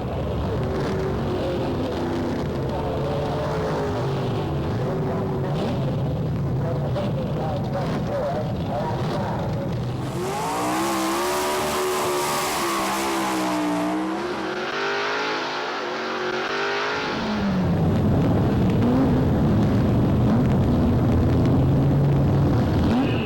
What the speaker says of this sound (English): check out this big block Ford powered FE competition dragster